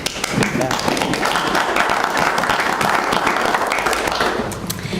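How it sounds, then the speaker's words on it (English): Attendees at a school board of trustees meeting clap together in a dense, steady burst of applause, with voices murmuring underneath throughout. "I'm gonna clap."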